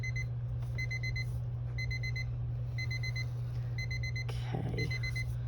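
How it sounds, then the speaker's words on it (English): A kitchen or craft timer alarm beeps in regular repeated bursts of high electronic tones over a steady low hum, with a brief clatter of handling near the end and no talking. "Oh, there's my timer."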